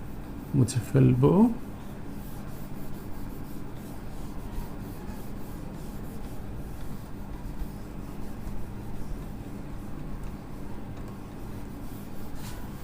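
Chalk or marker rubs and scratches across a classroom board as it is erased and written on during a chemistry lecture, soft scraping strokes heard under a teacher's ongoing talk.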